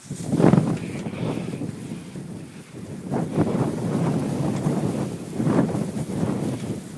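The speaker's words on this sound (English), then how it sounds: "This blockbuster blizzard right now." Blizzard wind gusts roar during a heavy snowstorm, buffeting the microphone in loud surges that rise and fall every few seconds with no voices.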